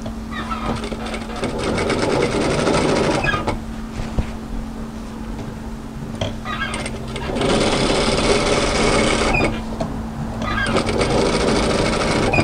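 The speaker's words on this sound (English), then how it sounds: "stop with the needle down in your work, lift, turn and pivot with that presser foot" A sewing machine stitches fabric for an apron, running in long, loud, steady whirring bursts up close, with short pauses between runs as the work is pivoted and rearranged.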